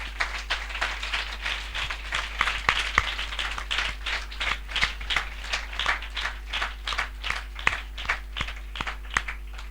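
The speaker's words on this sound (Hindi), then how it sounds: "एक बार अपने पिताओं के लिए ताली बजाएं।" A church audience claps steadily, with a dense run of sharp, overlapping hand claps that stays fairly even for about ten seconds, set against a low constant hum.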